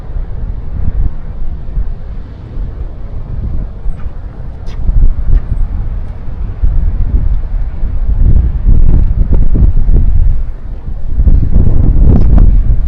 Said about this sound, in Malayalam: ഈ കാറ്റ് നല്ല സുഖമുണ്ട് കേട്ടോ.